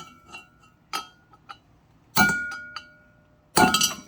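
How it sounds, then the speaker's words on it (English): Heavy metallic strikes ring out as a sledgehammer drives a main bearing into a seed cleaner through a spacer, two big blows with lighter taps before them, each leaving a brief clanging ring. "I just have a spacer and a sledge to drive that down in there."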